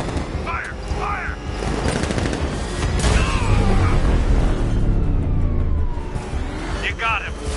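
Guards open fire in a Batman Arkham video game, with a dense burst of rapid gunfire, a siren-like wail and shouting voices layered over the shots.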